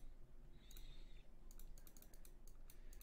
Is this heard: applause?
no